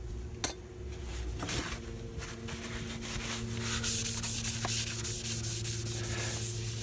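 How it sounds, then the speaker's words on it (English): Brake cleaner sprays from an aerosol can onto a new brake disc on a Jaguar XJ 3.2 Sport X300 during a disc and pad replacement. A steady, close hiss lasts several seconds, broken by a few light metallic clicks, with no talking. "give a quick clean with brake cleaner"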